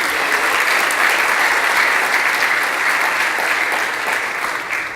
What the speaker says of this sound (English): I think we should just give Denise and her team a big round of applause.